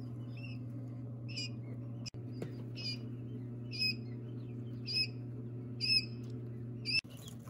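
Ten newly hatched quail chicks give faint, high peeping cheeps at roughly one-second intervals over a steady low hum, with a couple of soft knocks in between.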